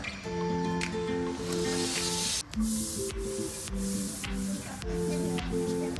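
A sugar mixture is poured into a hot pan while cooking Basanti Pulao, giving a steady loud sizzle and hiss that runs the whole time, with a few short clattering knocks and a brief dip midway.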